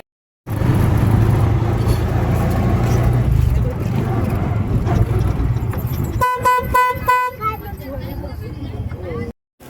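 An auto rickshaw ride to the station in Vaibhavwadi: a steady engine and road rumble runs throughout, with a quick series of close horn toots near the end and voices talking over it.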